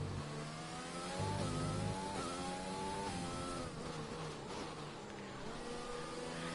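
A race car engine in a PS4 racing game at the Hungary circuit, revving in rising, falling pitch sweeps as it shifts down through the gears, heard alone and fairly loud.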